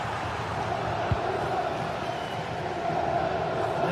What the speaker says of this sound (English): Well, the crowds are up for this. They haven't had too much to cheer about for a while,